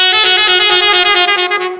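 Saxophone holding one bright, buzzy, sustained note, loud and close, with the pitch sagging into a deliberately exaggerated downward bend that fades toward the end of the short phrase.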